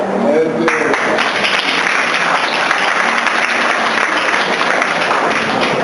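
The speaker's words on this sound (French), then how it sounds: "Alors nous applaudissons." A room full of people breaks into sustained applause, dense steady clapping that continues evenly throughout.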